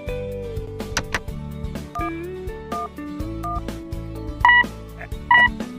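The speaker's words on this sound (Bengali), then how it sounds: "এবার বৃষ্টিকে ফোন করে সুখবরটা দিতে হবে।" A phone's keypad sounds a quick run of dialing tones, with short beeps stepping through different pitches over a low background music bed.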